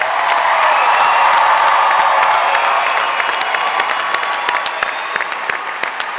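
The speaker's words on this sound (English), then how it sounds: "Let's have one final round of applause for our graduates." Loud, sustained applause from a large crowd honoring graduates at a Rhode Island College advanced degree commencement ceremony, dense clapping mixed with a few cheers and whoops, continuous throughout.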